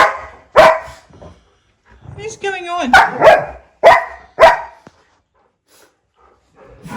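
Puppies bark and yip in short, loud bursts mixed with whimpering, close by and indoors, while someone talks in between.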